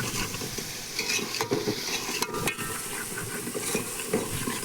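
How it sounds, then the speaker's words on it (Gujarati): Fish gravy with chilli being stirred and cooked in a pan, a quiet continuous sizzle and hiss broken by scraping strokes of a spoon against the metal, with no talking. "હવે આપણે ગ્રેવી પકાવવાની છે."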